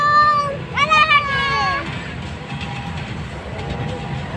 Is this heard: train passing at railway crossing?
yes